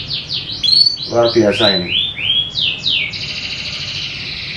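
A prize-winning competition canary sings a loud, close run of quick upswept chirps and rolling trills that ends in a sustained high trill. Someone speaks briefly over the song.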